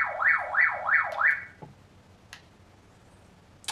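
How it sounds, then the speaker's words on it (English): A Baofeng UV-5R handheld ham radio sounds its alarm: a loud rising-and-falling warble repeats four times in quick succession, then stops, followed by a few faint clicks. "It also has an alarm feature on it."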